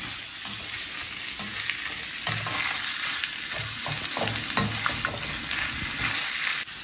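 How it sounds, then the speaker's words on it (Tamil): Chopped onions frying in hot oil for a gravy, a steady close sizzle with intermittent scraping and stirring clatter from a utensil, no talking. "இப்போ வந்து நான் இந்த ஆனியன் கட் பண்ணி வச்சதை நான் போடுறேன்"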